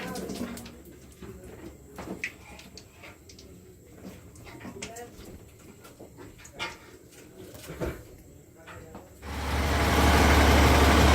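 A boat engine drones loudly as the vessel pulls away on a Sundarbans river, a dense steady roar swelling up over the final seconds after a stretch of scattered knocks and background voices.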